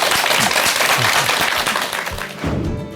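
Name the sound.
audience applause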